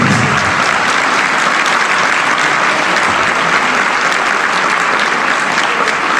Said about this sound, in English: Big round of applause and congratulations.